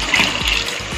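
Water poured into an onion ghee mutton gravy in a cooking pot, a loud close splashing trickle running steadily for about a second.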